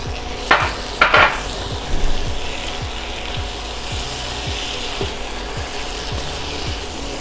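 Tomatoes frying in a pan with onion and soy sauce for green chicken, giving a steady close sizzle with a few scraping stirs and light utensil clinks near the start.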